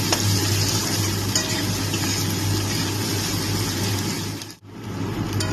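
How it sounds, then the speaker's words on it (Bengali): Chopped onions fry steadily in hot oil in a pan, a loud continuous sizzle close by with occasional stirring scrapes and a brief dip near the end. "পেঁয়াজটাকে একটু লাল করে আমি ভাজবো"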